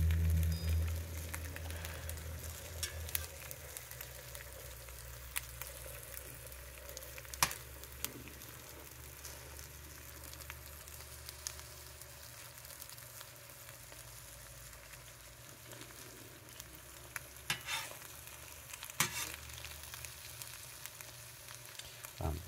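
An egg frying in a De Buyer blue carbon steel skillet gives off a soft, steady sizzle, quiet and close, with occasional small ticks and crackles scattered over the sizzle.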